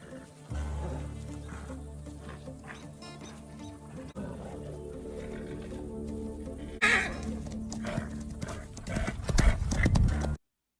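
Horses clip-clop and gallop in a Walking Dead episode, hoofbeats under music and scattered sound effects, with a whinny-like burst midway and louder pounding near the end before it cuts off.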